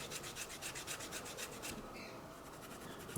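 A rubber abrasive rust eraser rubbed back and forth on a steel knife blade, such as a Spyderco Police or CRKT Piet, making a close, steady rasping scrub in quick repeated strokes that fade a little toward the end.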